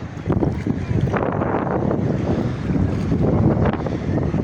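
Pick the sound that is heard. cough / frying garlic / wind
wind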